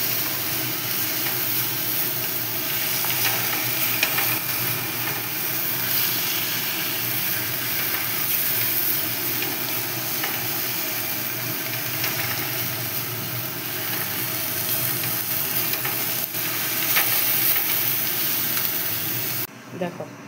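Red amaranth greens frying in ghee in a pan, a steady broadband sizzle that holds evenly throughout at moderate loudness, cutting off abruptly at the very end.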